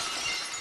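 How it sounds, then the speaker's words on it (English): A glass breaking sound effect on a Boston sports radio livestream: a brief, bright shatter that fills the short moment with hissing, splintering noise, loud and alone. "You hear a glass break, a Joe Castiglione into a John Cena theme with some air horns mixed in."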